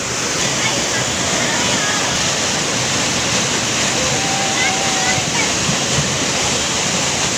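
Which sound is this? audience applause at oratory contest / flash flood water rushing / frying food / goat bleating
flash flood water rushing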